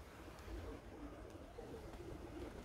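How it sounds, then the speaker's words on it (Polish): Pigeons coo softly in spring, faint and somewhat distant, their low murmuring calls repeating over a steady outdoor hum. "Takie są gołębie na wiosnę."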